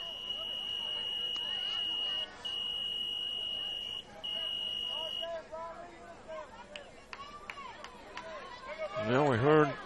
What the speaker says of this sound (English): we heard what might have been an alarm